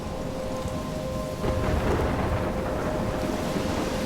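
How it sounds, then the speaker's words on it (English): A thunderstorm in the video game Life Is Strange: heavy rain hisses steadily on surfaces while a deep roll of thunder swells about halfway through, with a faint tonal hum running underneath and no voices. "I'm trapped in a storm?"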